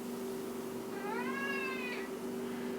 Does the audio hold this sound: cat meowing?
yes